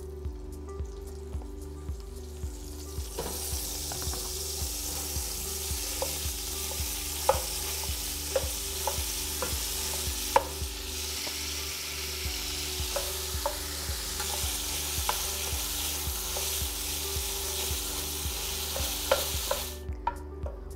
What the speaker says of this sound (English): we're going to brown both of those up as well in our already hot pan